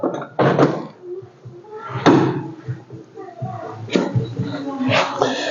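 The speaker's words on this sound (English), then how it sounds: "if I open the door" The door of a 1966 Chevrolet C10 clunks open amid close indoor-sounding knocks and handling noises, with a few sharp thuds spaced across the clip.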